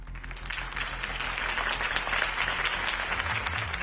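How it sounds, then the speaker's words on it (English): A crowd applauding in a Batman video game, dense steady clapping at moderate distance that carries on throughout without pause. "could have heard that applause"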